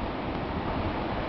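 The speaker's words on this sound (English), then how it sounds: "You can actually hear the wind." Steady broadband rush of hurricane-force wind blowing through a backyard outdoors, continuous and fairly loud with buffeting against the microphone, no distinct gusts or pauses across the short stretch.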